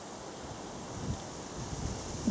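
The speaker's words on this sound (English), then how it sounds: "a bit breezy as you can possibly hear" Breezy wind buffets the microphone during a countryside circular walk around Marston Moretaine on a summer afternoon, a steady low rumble and hiss with gusts swelling louder toward the end, no talking.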